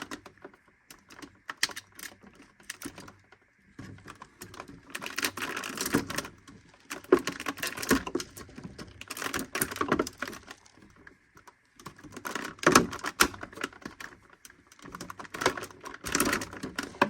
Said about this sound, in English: Looks like we're going to have to cut some bands.